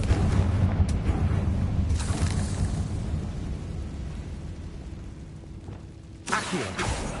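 A fiery Confringo spell blast in Hogwarts Legacy erupts as a rumbling explosion with crackling bursts, its roar decaying over several seconds before another sharp burst hits near the end.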